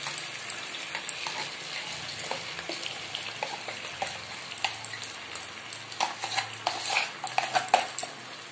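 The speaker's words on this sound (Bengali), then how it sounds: "আমি এবারে বিউলির ডাল বাটাটা ঢেলে দিচ্ছি।" Ground urad dal paste goes into a hot pan and gets stirred, with a sizzle, scraping spoon clicks and metallic knocks on the cookware that grow busier toward the end.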